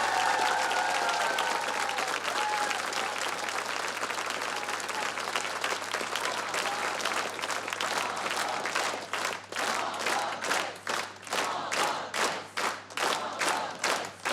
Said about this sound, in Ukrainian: Миколка Варцебюк, ваші оплески просто до сліз.